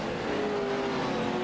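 Off-road racing trucks in an eShort Course video game race snarl along together, a steady, moderately loud engine drone with a rising tone, continuous and without voices.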